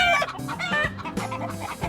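Native tawny chickens cluck loudly and busily on a farm, near and overlapping, with sharp higher calls at the start.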